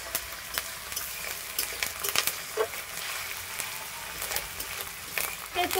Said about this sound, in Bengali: নাড়াচাড়া করে এটা ভেজে নেব